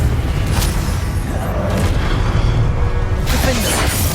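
A Confringo fire spell bursts in Hogwarts Legacy combat, giving loud booming blasts over a dense, continuous wash of game noise and clatter.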